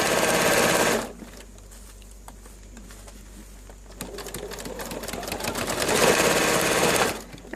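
Sewing machine stitching vinyl for a water-resistant mobile phone cover, a loud fast whirring run that pauses, resumes with slower ticking stitches, then builds to a second steady burst before stopping.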